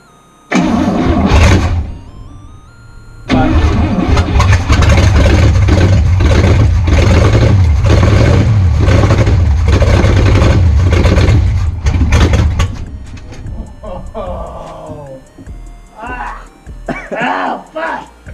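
Barn-find hearse engine, carbureted and sitting for 40 years, cranks to life and runs loud and rough with uneven revving for about nine seconds, then cuts out; people talk over it.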